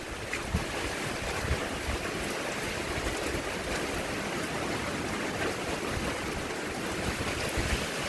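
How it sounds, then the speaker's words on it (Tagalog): Strong wind in the aftermath of Typhoon Tino roars and howls without a break, a loud, dense, even rush filling the whole stretch. "mutaghoy ang hangin guys"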